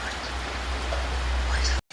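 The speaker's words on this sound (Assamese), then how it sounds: "ৰাতিপুৱা বৰষুণ দি আছে বহুত ভাল লাগিছে" Steady morning rain hisses evenly and close, a continuous wash of drops on surfaces that cuts off abruptly at the end.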